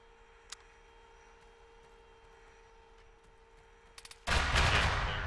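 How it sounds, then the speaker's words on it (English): Loud, sustained burst of heavy gunfire from an anti-air gun in the video game Arma 3, erupting suddenly after a few faint clicks and a quiet ambient hum, then roaring on continuously to the end. "I think that's the anti-air shooting"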